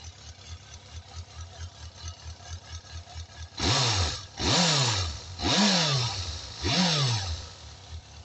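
Suzuki Bandit 400 motorcycle engine idling with a steady low pulse, then blipped through four sharp, loud revs that climb fast and fall back, each roughly a second apart.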